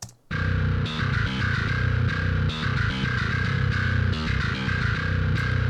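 A Dingwall-modelled djent bass through a virtual instrument plugin chugs with heavy, distorted low-end tone in tight palm-muted rhythmic bursts, loud and continuous with no talking.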